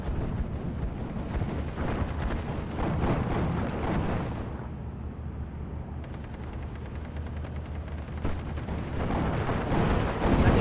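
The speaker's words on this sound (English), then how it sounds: "Six-pounder aiming for the Stug. The Stug will fire back, but he will lose the Stug to the six-pounder." A video game battle in which a six-pounder anti-tank gun and a StuG assault gun trade fire, heard as a dense run of loud cannon booms and crackling gunfire with a quieter spell midway.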